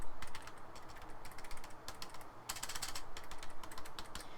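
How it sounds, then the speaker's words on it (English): Fast, quiet typing on a Razer Star Wars: The Old Republic gaming keyboard, a soft rapid patter of key presses with a few brief pauses, close and low in level with no voices. "Now the keys themselves only make minimal noise, so when you're typing"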